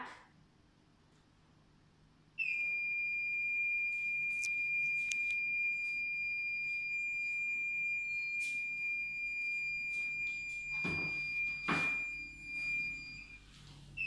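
A smart blind stick's buzzer emits a steady, high-pitched electronic tone that starts abruptly after a quiet moment and holds continuously for about eleven seconds, with faint clicks and handling noise underneath.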